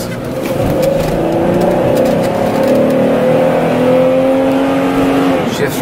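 A 101k-mile Pontiac Montana minivan accelerates on a test drive, its loud, close engine note climbing and dropping in pitch as it shifts through the gears, running steady throughout with no voices.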